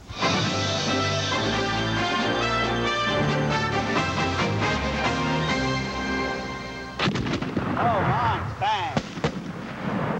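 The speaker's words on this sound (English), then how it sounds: "when fireworks will paint the skies" Fireworks at Pittsburgh's Founders Fest in 1994 crackle and boom steadily for ten seconds under music, with dense bursts throughout and voices in the later part.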